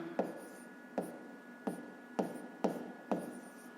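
Handwriting on paper while solving a fifth-grade math exercise: six close, evenly spaced scratchy pen strokes at a regular rhythm, with quiet gaps between.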